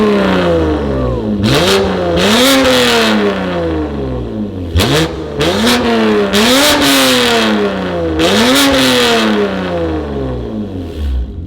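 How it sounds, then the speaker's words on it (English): Loud, close revs from a BMW M2 Competition exhaust, several sharp throttle blips climbing and dropping back with crackling between them. "The sound of this sounds so good. It is very, very different than the signature exhaust."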